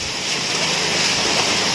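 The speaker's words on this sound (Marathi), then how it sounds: "खूप मोठ्या प्रमाणावरती पाऊस पडतो आहे" Heavy monsoon rain pours over the flooded Chiplun market in Konkan, a dense, steady hiss and roar of downpour and moving water that holds at an even, loud level throughout, with no voices.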